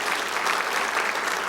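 Church audience applauding for the bishop and church members, a dense steady burst of many hands clapping together, close and loud.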